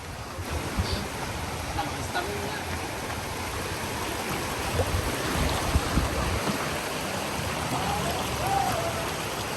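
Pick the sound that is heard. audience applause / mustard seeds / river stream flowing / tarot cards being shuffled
river stream flowing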